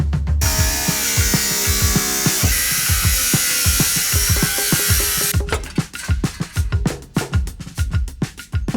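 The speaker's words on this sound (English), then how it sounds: "Grinder time." An angle grinder cuts through the metal body of a 4Runner to make room for a coilover shock mount. A loud, sustained high-pitched screech runs for about five seconds, then gives way to a burst of sharp clanks and knocks.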